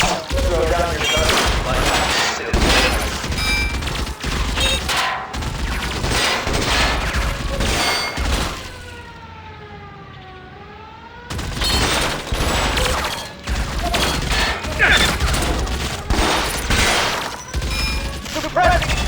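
Dense game gunfire from L.A. Noire, sustained bursts and booming shots filling most of the stretch, with a brief lull midway carrying tonal music or ambience before the loud volleys resume.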